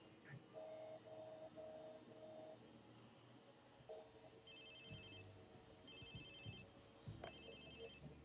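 An in-game phone in Watch Dogs 2 rings with repeated electronic tones in short bursts, over a steady background game soundscape; no speech is heard.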